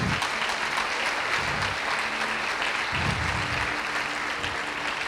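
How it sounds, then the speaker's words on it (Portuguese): A church congregation bursts into applause, dense, sustained clapping from many hands filling the room at a steady, loud level for several seconds. "Eu não sei se isso merece um aplauso ao Senhor Jesus."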